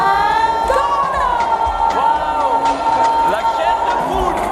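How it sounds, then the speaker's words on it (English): A stadium crowd at the African Games opening ceremony cheers and whoops loudly for Ghana, with a sustained roar of many voices, bursts of shouting and scattered clapping. "Please give us a sound of applause to the original Ghana"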